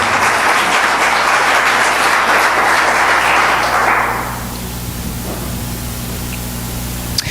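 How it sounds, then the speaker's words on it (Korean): A church congregation applauds during a sermon, loud dense clapping for about four seconds before it fades out quickly, leaving low room noise and a faint steady hum. "박수를 칠 거면 세게 치시기 바랍니다."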